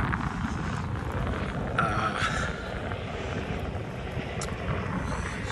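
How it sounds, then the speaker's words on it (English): A jet airliner passes overhead, a broad, sustained roar that swells slightly and then holds steady, fairly loud and alone. "Here comes another jet."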